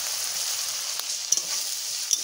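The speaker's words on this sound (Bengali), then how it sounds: "এগুলো কাঁচা মশলা এগুলো একটু কষাই নিচ্ছি" Raw spices sizzle and fry in a hot pan for a jackfruit curry, a steady hiss with a couple of brief stirring clicks, close and alone.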